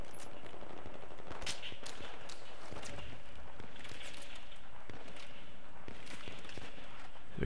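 Rapid bursts of automatic gunfire and scattered single shots ring out across a Battlefield 3 firefight, sharp cracks repeating irregularly over a constant dense battle backdrop, with no talk.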